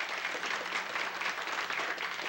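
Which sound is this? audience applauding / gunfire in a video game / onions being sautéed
audience applauding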